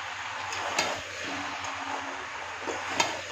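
Spices stir-fried with fish head and Malabar spinach stalks in a pan, a soft steady sizzle broken by a few sharp clicks of the spatula scraping and stirring.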